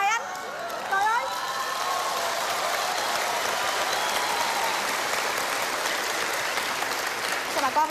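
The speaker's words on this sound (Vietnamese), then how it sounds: "Bà con làm gì vỗ tay vậy?" Audience applause at a live Vietnamese comedy show, a sustained crowd clapping wash running under the performers' bantering voices, with a few bright vocal inflections near the start and end.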